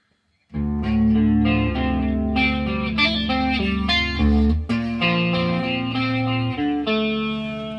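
A heavily distorted electric guitar chugs through a Marshall DSL40 amp, thick low chords ringing with a wash of reverb, loud and continuous with a brief dip midway.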